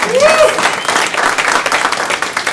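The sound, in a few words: comedy club audience applause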